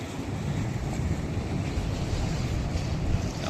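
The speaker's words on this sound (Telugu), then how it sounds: "చూసారా ఎట్లా పోతున్నాయి వాటర్." Floodwater of the Krishna river rushing past in a continuous broad roar, close and steady, with wind buffeting the microphone and no one speaking.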